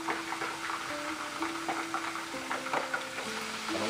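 Steak browns in hot oil in a frying pan with a soft continuous sizzle and scattered pops, fairly quiet and close, under a faint steady hum; no voices.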